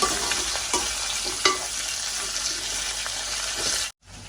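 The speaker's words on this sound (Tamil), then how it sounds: "முதல்ல உருளைக்கிழங்கு போடுவோம். இது கொஞ்சம் நல்லா வதங்கி வரட்டும் உருளைக்கிழங்கு." Potato pieces sautéing in a hot pan with a loud, continuous hissing sizzle and a couple of stirring scrapes, ending in a sudden cutoff, no voices.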